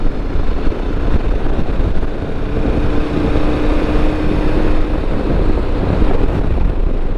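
A KTM Super Adventure, a 160-horsepower adventure touring motorcycle, is ridden at speed, with steady engine drone beneath heavy, continuous wind buffeting on the microphone throughout.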